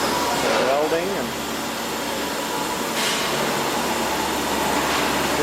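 Welding area ambience inside the SIAL factory in Italy: a constant loud industrial hum and hiss fills the space, with a faint rising tone early on and a voice briefly talking.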